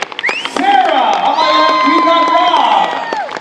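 A live audience at a Fear Factor show in Orlando cheers, whoops and claps loudly for the contestants, a sustained crowd roar with high shrieks, while an announcer's voice carries over it.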